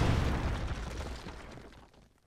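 A bomb explodes in the video game Keep Talking and Nobody Explodes: a loud, full-bodied boom that rumbles and fades steadily over two seconds, with no talking.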